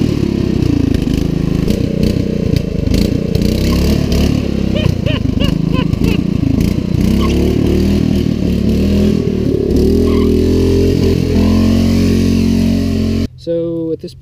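A small engine on a homemade racing lawn mower runs steadily and loudly close by for most of the time, with people talking over it, before it cuts out near the end.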